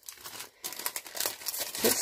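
Greaseproof paper crinkling and rustling close up, a run of soft crackly bursts that grows busier and louder toward the end, with no talking.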